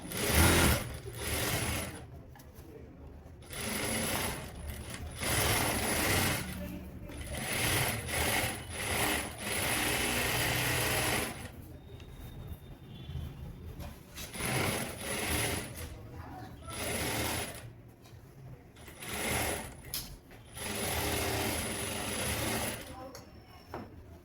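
A sewing machine stitches a semi kotori blouse in short, repeated bursts of whirring separated by pauses, close and moderately loud, with someone talking between and over the runs.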